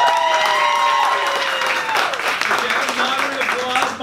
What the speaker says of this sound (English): Moderate applause.